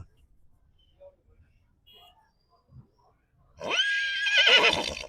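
A horse at the Anthiyur Gurunatha Swamy temple festival lets out one loud, close neigh lasting over a second after a quiet stretch of faint background sounds.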